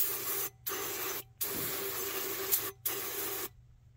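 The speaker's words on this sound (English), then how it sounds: "I'll just take brake cleaner and clean that out. Just spraying that." An aerosol can of brake cleaner hisses in steady bursts of spraying into a truck's primary fuel filter housing on a Cat C12 diesel engine, with a few brief pauses between them, close and fairly loud.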